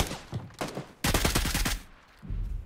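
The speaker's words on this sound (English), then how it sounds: "Why are you shooting at me, dude?" Gunfire in PUBG on Xbox with an M24 in play: sharp shots in bursts, a short cluster at first, then a louder rapid volley of cracks that fades, followed by further low rumbling reports.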